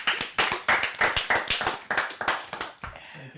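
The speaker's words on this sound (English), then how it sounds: "Clap it up." A few people clapping up close, a series of sharp, fairly regular hand claps that trail off at the end.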